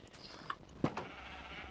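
A single brief sheep bleat rings out in a video game, faint and close, rising once above a quiet backdrop before fading.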